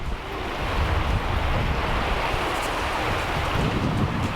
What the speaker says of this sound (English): This is Ilikai Beach.